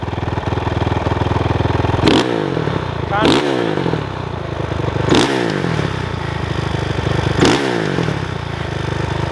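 A Honda TRX 450ER ATV engine idles roughly, then revs sharply four times in a steady rhythm, each burst rising and falling back to a chattering idle, close by.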